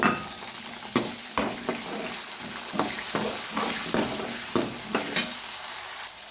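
Cumin, mustard seeds, garlic and shallots frying in hot oil as a tempering for a bitter gourd tamarind curry: a steady close sizzle broken by repeated clattering stirs, with no voices.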